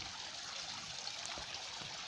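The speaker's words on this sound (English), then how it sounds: "waterfall?" Water flows steadily at Ambakan Falls, a soft, continuous rushing and trickling wash that stays faint and even throughout with no voices.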